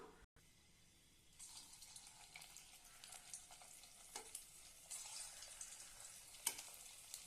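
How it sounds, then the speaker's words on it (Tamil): Potato balls dropped one by one into hot oil set off a quiet, continuous deep-frying sizzle that builds slightly, with a few sharp crackles and pops standing out near the end. "நான் இப்ப எண்ணெயில ஒண்ணு ஒண்ணா போட்டு பொரிச்சு எடுத்துக்கலாம்"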